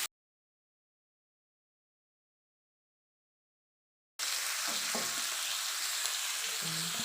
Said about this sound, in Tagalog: Tapos ilalagay ko na yung shrimp.